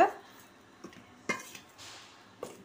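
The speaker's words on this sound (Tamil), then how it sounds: "இப்போ இதை ரெண்டையும் நல்லா கலந்து விட்டுக்கலாம்" A spoon clinks and scrapes against a bowl while green gram flour and powdered sugar are mixed, a few sparse, quiet knocks spaced over a soft rustle.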